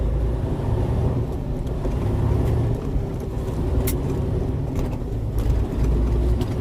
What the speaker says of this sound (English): And yes, I'm floating my gears.